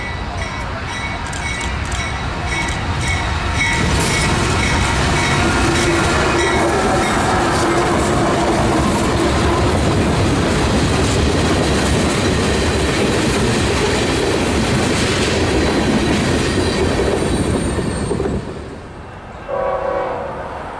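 A local freight train of five cars rolls through downtown Lakeland, Florida, a loud, close rumble with rhythmic clickety-clack of wheels over rail joints and a horn sounding, the roar holding steady for most of the pass before fading abruptly.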